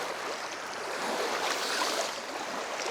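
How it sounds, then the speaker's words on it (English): Continuous rushing water of a stream near an off-grid cabin flows steadily throughout, a broad hiss-like wash with slight swells, no voices. "Just something about the sound of that water"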